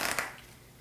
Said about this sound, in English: Then you're going to cut the cards